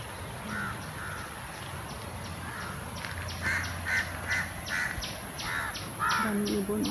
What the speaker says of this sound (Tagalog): Daming ibon eh.